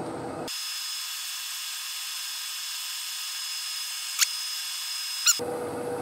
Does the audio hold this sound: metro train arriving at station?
no